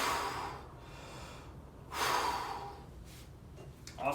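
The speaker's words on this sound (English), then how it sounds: "I'm going to do 3 quick breaths," A person takes big, quick breaths before a weightlifting set, two loud rushing breaths about two seconds apart, then quieter shorter breathing, close up with no talk.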